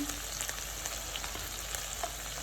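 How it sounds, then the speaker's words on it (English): Onions sizzle and fry steadily in a pan with dried salted fish, a close, continuous crackle with faint scattered pops and no talking. "So now the onions are going back in."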